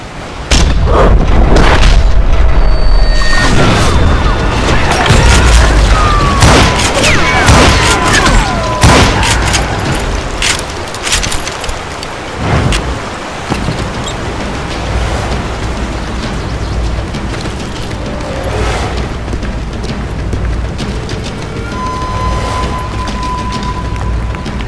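Gunfire in the Western shooter Call of Juarez: Gunslinger, with loud booming shots and blasts packed densely at the start, easing into a steadier rumble of distant firing and ambience.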